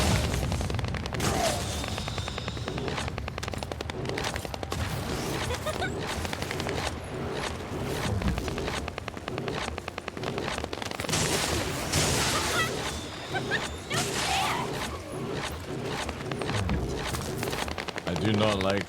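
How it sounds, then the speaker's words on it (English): A Tommy gun fires in a video game, its rapid bursts rattling continuously through a dense, busy game mix while a voice talks over it almost throughout. "Oh yeah, we need to try our machine gun. That I'll try to. Oh yeah, it's just a Tommy gun,"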